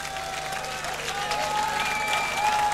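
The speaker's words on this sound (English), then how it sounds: "round of applause for these motherfuckers right here" A rock concert crowd at Rock im Park applauds and cheers, a sustained wash of clapping with scattered whistles and shouts, fairly loud and steady from start to finish.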